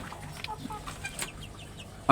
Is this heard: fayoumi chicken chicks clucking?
yes